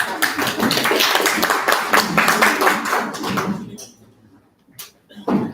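An audience at a lecture on schizophrenia claps in a dense, busy burst for about three and a half seconds, then it thins to a few scattered, isolated claps and taps.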